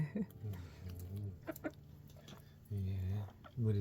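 Short clucks from a chicken at an off-grid homestead come in scattered bursts, close by and moderately loud, mixed in with people talking.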